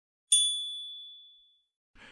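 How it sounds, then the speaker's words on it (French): A single clear bell chime rings out, marking a passage in a French audiobook, struck once and ringing bright and pure before fading slowly into silence. "Nombre de ces passages signalés par un son de cloche"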